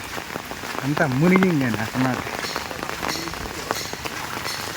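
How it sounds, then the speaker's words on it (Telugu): Steady patter of rain falling on a wet street, with a person talking over it near the microphone. "ఇక్కడ చూడండి చిన్న వర్షంగా ఫుల్గా"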